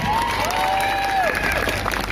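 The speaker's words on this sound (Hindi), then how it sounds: "ऐसी ताली आपको बजानी चाहिए" Crowd noise at a political election rally in Kushalgarh, Banswara, a steady wash of voices, clapping and cheering throughout, with a loud whistle or shout rising above it.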